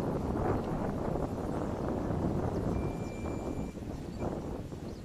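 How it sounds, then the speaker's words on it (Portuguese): Strong wind buffets the microphone in a constant, heavy roar with gusty rumbling, no voices, and a couple of faint high tones in the background. "Tá ventando pra caramba."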